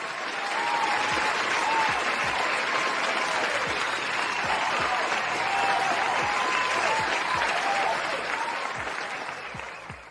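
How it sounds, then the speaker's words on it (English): A canned applause effect plays during a livestream, a full dense crowd clapping and cheering at steady volume for about ten seconds, with a faint voice under it. "Thank you so much, and applause to you"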